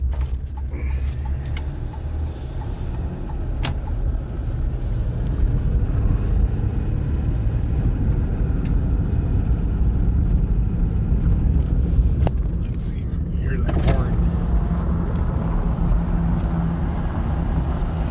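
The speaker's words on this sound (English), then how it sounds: "There's just an engine going through." A freight locomotive engine running alone on the rail line, a steady low rumble that holds broadly across the whole stretch with wind noise, fairly close and loud.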